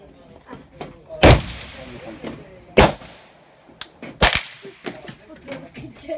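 Gunshots at an outdoor shooting range: a few loud, sharp single cracks spaced seconds apart, with quieter distant shots and people talking between them.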